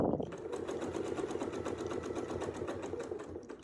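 Sewing machine stitching a quilt inside a box marked with a ruler template, a steady fast run of needle strokes heard up close throughout, with no talk.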